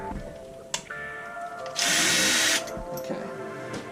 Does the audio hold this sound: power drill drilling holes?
yes